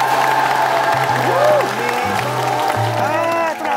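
Studio audience applause on a Korean talent show, a dense steady clapping bed with a crowd murmur underneath, while sliding melodic tones play over it.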